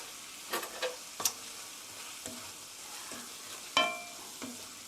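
Oyster mushrooms with half a teaspoon of salt are stirred in a pan for a mushroom rice bowl. Soft, sparse scraping strokes of a utensil sound over a faint, quiet sizzle, with no talking.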